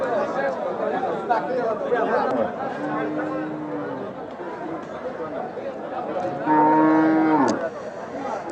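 Cattle mooing at the Nilfamari livestock market for meat cows, with long lowing calls rising over a steady murmur of crowd chatter and bargaining voices throughout.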